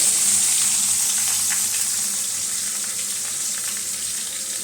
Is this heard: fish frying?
yes